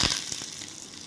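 Curry leaves hit hot oil with mustard seeds and dried chilli while tempering for curd rice, giving a sharp burst of sizzling and crackling that quickly settles into a soft, fading fry.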